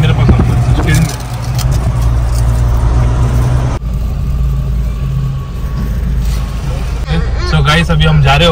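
Car engine rumbling steadily under load as it climbs a hill road toward Saptashrungi Gad near Nashik, with continuous road noise and a person talking over it.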